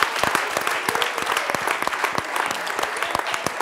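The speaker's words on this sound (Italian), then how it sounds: "Genitori, applaudiamo la scuola di Borello." Parents applaud a primary school in brisk, close clapping, individual sharp claps distinct within a moderate, lively burst.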